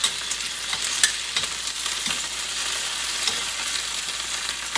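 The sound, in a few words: tomatoes, chilies, onions and garlic roasting in a pan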